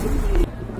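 A pigeon coos briefly and close among caged pigeons at a market, with a soft low burst over steady background noise.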